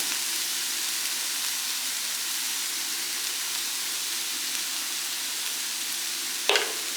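Egg thoran, a Kerala egg scramble dusted with chili powder, frying in a pan with a steady, even sizzle throughout and a single brief clink of the spoon stirring near the end.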